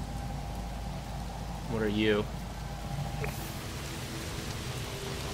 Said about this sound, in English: Alright, back into the poison rain.